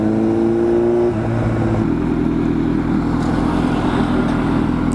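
A straight-piped Kawasaki Z900 motorcycle idles with a loud, lumpy gurgling exhaust, then the engine note shifts into a rougher, steady burbling rumble, close and dominant throughout.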